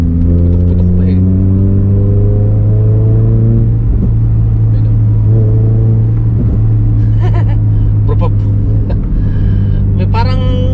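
A 2007 Toyota Yaris hatchback engine idles with a steady low hum and revs up, with a few short sharp pops as the throttle is released; people talk over it throughout.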